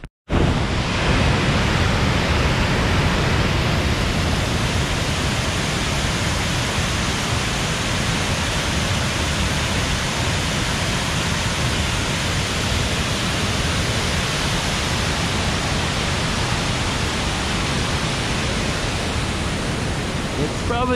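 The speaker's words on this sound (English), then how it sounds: "That river is going to be ripping." A fast-flowing river rushes steadily beside a hiking trail leading to falls, its broad even roar filling the scene without a break and with no voices over it.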